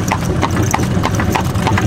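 Horse hooves clip-clop at a steady trotting rhythm while pulling a buggy, close and loud, with a low rumble underneath.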